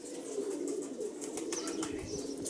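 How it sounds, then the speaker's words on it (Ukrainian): Pigeons cooing with soft low murmurs and a flutter of wings, steady outdoor background, no talking. "Ганяємо голубів"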